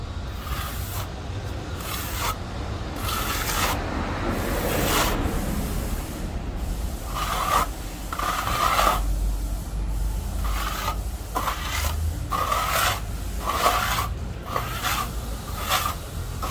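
Steady rubbing and scraping of a trowel smoothing Granitek granite-effect texture material on a wall, with repeated strokes forming a continuous rasping wash at moderate level and no talking.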